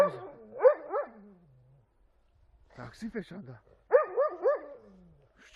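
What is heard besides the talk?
dog barking on command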